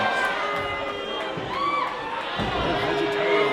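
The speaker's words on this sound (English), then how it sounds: "Crowd chanting for Beef Boy." Crowd at a live independent wrestling show chanting and cheering in a steady, loud roar that fills the room, with voices rising and falling and some shouting mixed in.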